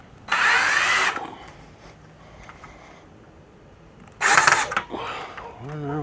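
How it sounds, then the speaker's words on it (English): Two short bursts of a power drill driving into a wooden door frame while installing a screen security door, loud and close, separated by a few quiet seconds. "be careful not to drill too far in there"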